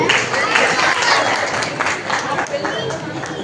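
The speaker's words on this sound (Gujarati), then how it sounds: "આ દીકરી આવી ગઈ છે, તાળીઓથી વધાવી લેશું." A crowd at a felicitation ceremony honouring students applauds to welcome a girl onto the stage. The broad, steady clapping continues throughout at a moderate level, with voices mixed in.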